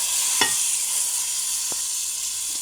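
Ginger, garlic and tomatoes sizzle steadily with spices in a hot pan, a constant close frying hiss broken by a couple of sharp utensil clicks.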